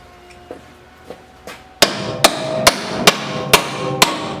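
A hammer strikes metal during the restoration of a vintage bandsaw: three light taps, then six sharp, loud blows at a steady rhythm, close and alone.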